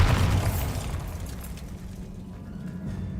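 A Bombarda spell explosion in the video game Hogwarts Legacy: one loud, deep blast at the very start, followed by a rumbling tail that slowly fades over a few seconds.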